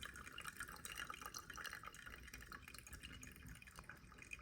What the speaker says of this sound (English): looks like it's draining nice and smoothly. I can hear it.